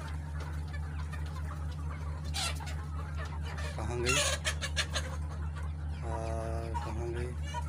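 Misri (Egyptian) breed chickens cluck and squawk nearby on a village hen farm over a steady low hum, with a louder burst of clucking midway and a brief spoken remark.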